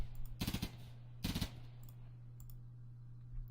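Colonist firing a gun at a rat in the RimWorld video game: two short rapid bursts of clicky shots close together, followed by a few faint ticks over a low steady hum.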